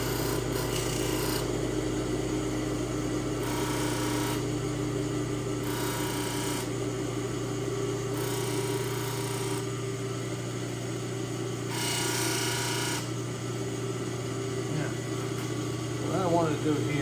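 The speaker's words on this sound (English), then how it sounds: "Finishing grinder? Yes, everything has a different grit to it as we work our way down." A podiatry finishing grinder works on a foot, its steady rasping whir running throughout over a constant motor hum, with bursts of grinding pressure coming and going as voices talk nearby.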